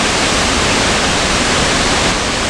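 Silver Creek Falls roars as a steady, loud broadband rush of falling water, close by and unbroken, with no voices over it.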